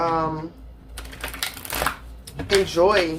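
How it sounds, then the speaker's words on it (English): Shaman Oracle cards are shuffled in bursts of papery riffling and flicking during a tarot-style reading, with a voice speaking briefly at the start and end. "I'm shuffling the Shaman Oracle card for y'all"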